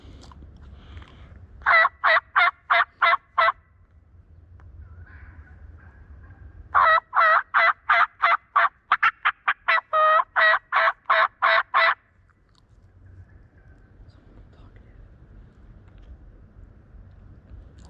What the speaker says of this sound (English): That's a gobbler yelp.